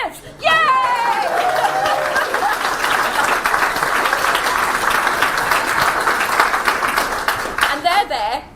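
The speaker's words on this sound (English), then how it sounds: "you're going to have to clap again now" Loud, sustained applause from a crowd at a Green Party leadership announcement, with clapping and cheering that starts abruptly and carries on steadily, voices and chatter mixed in.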